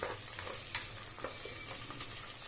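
Carrots, beans and peas sizzle in a pan for palak vegetable pulav, a continuous close hiss broken by sharp clicks and scrapes of a spoon stirring, with no one speaking.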